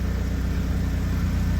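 A naturally aspirated, unmodified K24-swapped Lotus Elise idles in a steady, even rumble with a low throbbing pulse, loud and close, and its pitch never changes throughout.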